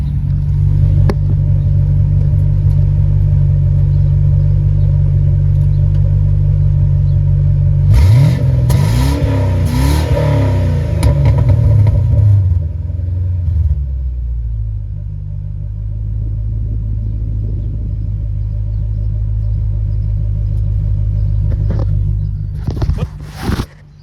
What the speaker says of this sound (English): just great sound coming out of those two tailpipes back there